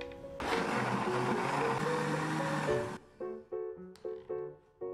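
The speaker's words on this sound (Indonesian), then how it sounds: "Blender mangga sampai benar-benar halus." An electric blender whirs loudly for about two and a half seconds while blending mango with liquid milk, then cuts off, leaving short clinks and bumps of handling.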